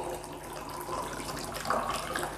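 Kangen water pours over rice in a steady, close splashing stream that swells slightly near the end, with no voices.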